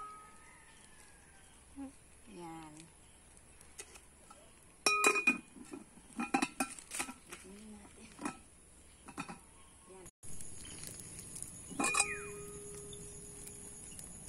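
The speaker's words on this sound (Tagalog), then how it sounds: "Tapos lagay na natin yung ating kaldero." A metal cooking pot clanks and clinks as it is set down over an outdoor wood fire, with scattered metallic knocks and scrapes, fairly close but quiet, and faint talk in between.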